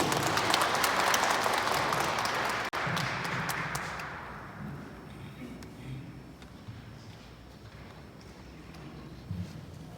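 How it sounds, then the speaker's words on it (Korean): Loud applause from an audience at a formal public announcement event greets the speaker, then quickly thins into scattered claps and faint room noise after about four seconds. "뜨거운 박수로 환영해 주시기 감사드립니다."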